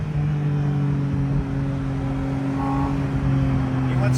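A Porsche Boxster Spyder RS (982) engine drones loudly from the passenger seat, holding a steady, rising rumble throughout, with faint voices in the cabin.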